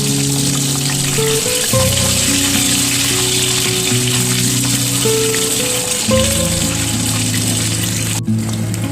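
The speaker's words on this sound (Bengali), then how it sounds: "ডিমগুলোকে উল্টে পাল্টে ভালো করে লাল লাল করে ভেজে নিতে হবে।" Eggs frying in hot oil for an egg korma, a loud, steady sizzle that runs continuously and close up, with occasional faint rattling from the pan and no voices.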